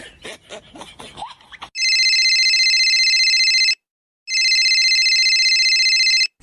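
A telephone rings loudly in two long electronic bursts separated by a short pause, following a few moments of faint mixed noise at the start.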